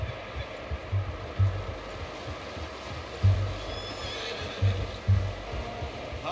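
A horse whinnies in Red Dead Redemption 2, a fairly soft call over a low rumbling game ambience with several heavy thumps like hoof or footfalls; no talk.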